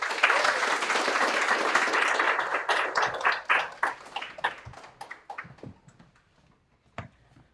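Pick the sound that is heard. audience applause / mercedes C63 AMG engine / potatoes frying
audience applause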